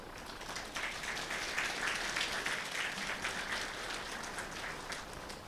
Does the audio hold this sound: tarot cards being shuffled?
no